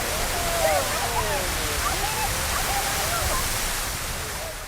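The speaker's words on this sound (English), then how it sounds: "all the water underneath flashes the steam, pushes the water out into a geyser eruption" Yellowstone geyser erupting, a steady roaring rush of water and steam, loud and continuous, with faint whistling tones and a voice talking over it.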